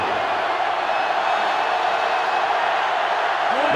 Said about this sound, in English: The sellout crowd is really making a difference now as these guys can't even call the play.